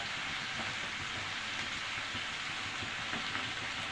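Washed amaranth leaves (thotakura) dropped into a hot pan for a tempering, giving a steady, hissing sizzle like heavy rain, even and moderately quiet with no voices.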